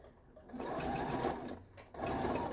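A sewing machine restitches a short stretch of seam on a quilt block, two brief bursts of rapid close mechanical whirring with a short pause between them.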